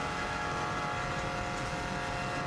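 A 2016 Subaru WRX STI drives a warm-up lap of the Isle of Man TT course, its engine a steady loud drone with road and wind roar from inside the car, with no clear gear changes.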